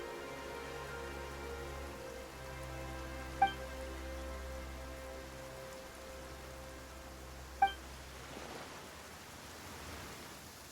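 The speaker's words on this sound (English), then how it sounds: "Why is it raining all of a sudden?" Steady rain in the video game Genshin Impact patters softly over a low hum, with two sharp ticks standing out and no talking.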